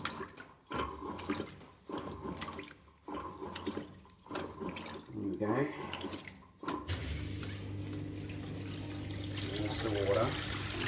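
Simpson 8.5kg washing machine, nearly full of clothes, draining its water: rhythmic sloshing agitation gives way to a steady, continuous gush of outflowing water, close and fairly loud, with a brief spoken remark.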